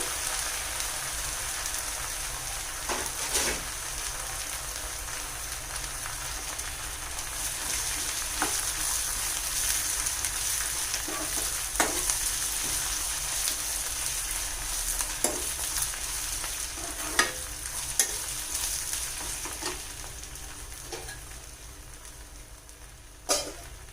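Dry red chillies sizzling in hot oil for a tamarind pulihora tempering, a steady fine crackle and fry with occasional sharp pops and spoon stirs, close and alone.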